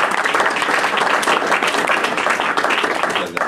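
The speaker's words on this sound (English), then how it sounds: "clap for you guys" A banquet audience claps for a group of soccer players, a loud, dense burst of applause that holds steady and eases slightly near the end.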